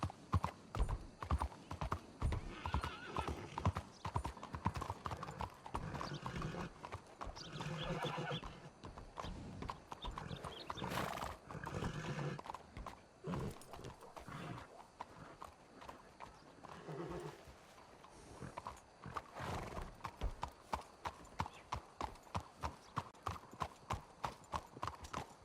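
Horse hooves clip-clop steadily in a video game, with whinnies and neighs mixed in, moderately close, and the rhythmic hoofbeats grow more regular toward the end.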